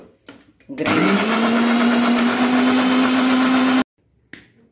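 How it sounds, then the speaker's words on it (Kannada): A kitchen grinder loaded with soaked rice for dosa-style batter starts abruptly and runs at a loud, steady whine with a low hum for about three seconds, then cuts off sharply, with faint handling noise before and after. "ಗ್ರೈಂಡರಲ್ಲಿಟ್ಟು"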